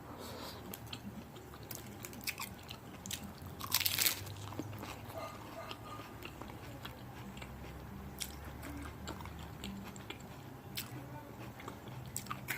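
Marinated tuna sushi being eaten close to the microphone, with soft wet chewing and squishing, a few sharper crunchy bites, and one louder burst of crunching partway through.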